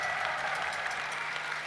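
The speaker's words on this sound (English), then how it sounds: "Round of applause. Come on, give it to him." Concert audience applauding for the guitarist at a rock show in Berlin, 2014, a steady dense wash of clapping from a large crowd holding at an even level throughout.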